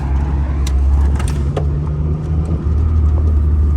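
A 1989 Chrysler Turbo LeBaron GTC on the road, with a steady loud engine drone and road rumble from inside the cabin and a few small rattles and clicks.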